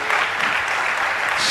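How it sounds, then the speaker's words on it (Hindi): A large assembly hall audience breaks into loud, sustained applause, dense and continuous throughout the clip with no voices on top. "एक बार पूरा सदन जोरदार तालियां बजा दे"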